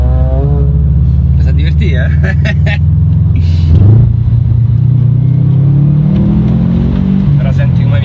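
A Subaru Impreza STI engine revving and accelerating, a loud steady rumble rising in pitch, heard from inside the car with people talking over it.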